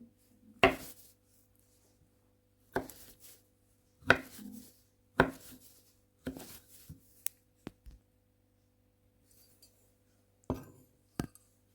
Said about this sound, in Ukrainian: Ріжу ківі шматочками.